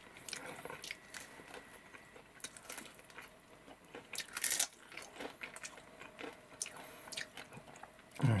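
Someone eating KFC garlic soy sauce fried chicken near the bone and cartilage: soft, close biting and moist chewing with small crunches, one louder crunch midway, quiet throughout with no talk.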